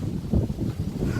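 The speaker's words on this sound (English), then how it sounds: "It's very windy right now." Gusty wind buffets the microphone in low rumbling bursts, loud and close, with no voices, on a hike up Mt Lofty.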